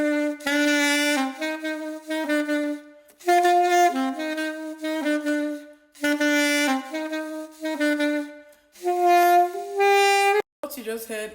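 Saxophone plays a series of clean sustained notes without grace notes, each held tone separated by short pauses, loud and close with no talking.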